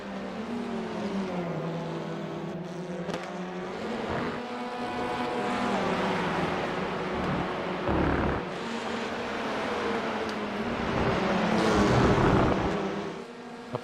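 GT4 and TCR race cars on the final lap at Brands Hatch roar past with sustained engine drone and shifting pitch, several cars audible together, loud and continuous throughout.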